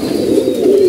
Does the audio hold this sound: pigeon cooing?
yes